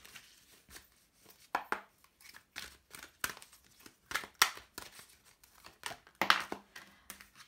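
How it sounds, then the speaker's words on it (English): Tarot cards shuffled by hand during a card reading, giving a quick run of crisp, papery riffles and snaps in irregular bursts, close and moderately loud with no talking. "One more shuffle for my dear pile 1."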